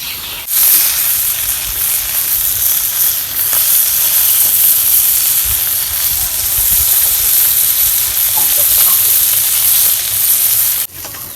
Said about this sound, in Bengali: মাছ ভাজা হয়েছে